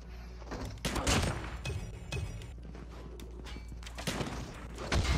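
Rapid gunfire and impacts from a close-range shotgun-versus-knife match in Call of Duty Mobile, bursts of shots cracking repeatedly across the clip over a steady low game rumble.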